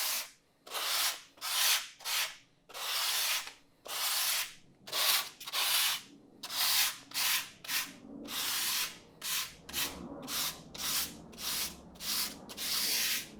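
Hand rubbing over EVA foam coated with Kwikseal, smoothing the surface texture with light pressure: a steady series of about twenty close, loud sanding-like strokes in a brisk back-and-forth rhythm, with no talk.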